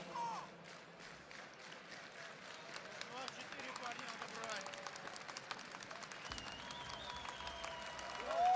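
An esports arena crowd at the Major Stockholm 2021 Counter-Strike match between NaVi and Team Vitality claps and cheers at low level, a steady wash of applause running beneath ongoing commentary.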